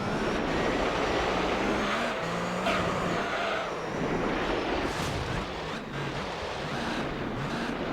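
Race car engine in Gran Turismo 3, a nearly 2,000-horsepower car, roaring steadily with wavering pitch under a broad rushing wash of noise throughout.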